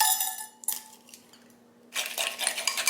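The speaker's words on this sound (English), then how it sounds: "now goes in an egg" Bright clinks and clatter from a mixing bowl as an egg is cracked and dropped into creamed butter and sugar for gochujang cookie dough, with a short clink burst, a quiet gap, then a longer run of close kitchen rattling.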